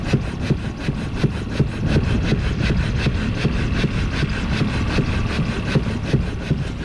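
A boat engine runs steadily while the boat is anchored, a low, even idling chug with a regular pulsing beat, close and moderately loud, with no voices.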